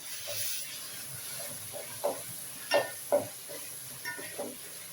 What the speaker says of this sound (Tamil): தக்காளி கூடவே சேர்ந்து வதக்கிடலாம்.